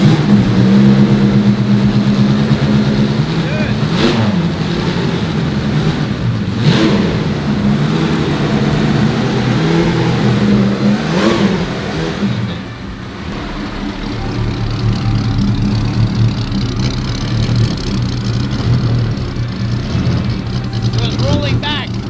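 Straight-piped engine of a life-size Bugatti Type 35 replica runs loud and close, its note rising and falling in revs, with people talking over it throughout.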